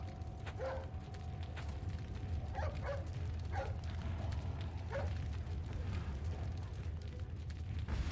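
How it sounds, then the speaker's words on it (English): Dog barking in Resident Evil 4 on PS5, several short separate barks at moderate distance over a constant low rumbling game background. "There's that dog I saved."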